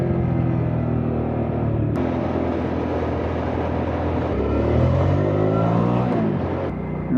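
Hyosung GV motorcycle engine accelerating hard while chasing a convoy of bikes through the city, a loud, continuous rumbling drone that rises in pitch as the revs climb, with steady wind roar over it and no talking.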